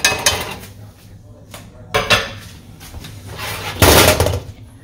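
A heavy cast iron pan clanks and scrapes as it is lifted off the heat after cooking a BBQ burrito filling, with a few sharp metallic knocks and a loud clatter near the end.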